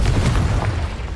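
A fire spell is cast in Hogwarts Legacy, bursting out as a loud, booming whoosh of flame that rumbles steadily for just over a second with no talk over it.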